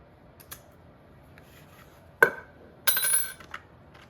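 Metal keys jingle and clink as one is worked onto a key ring, a sharp click followed by a brief rattling jangle, close and fairly quiet against a still background.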